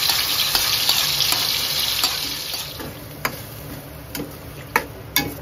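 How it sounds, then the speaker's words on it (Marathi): Steady, close sizzling of chicken frying in hot oil in a kadhai for biryani, with scattered sharp pops and crackles rising through the hiss. "आता कढई चांगली तेल वगैरे तापलंय, आता हे चिकन घालायचं आपल्याला"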